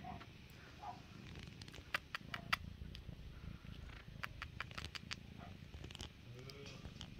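A faint, low rumbling cat purr runs continuously, with soft taps and rustles on top.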